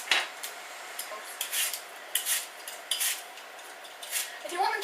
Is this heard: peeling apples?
yes